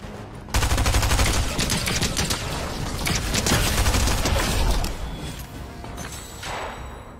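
Automatic gunfire in the video game Fortnite, sustained rapid machine-gun bursts rattling for several seconds at close range, then tapering to scattered shots.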